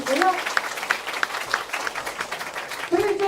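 A crowd of residents applauds at a neighborhood community center greeting event for a city mayor. The clapping is steady and moderately loud, with a voice speaking over it near the start and again at the end.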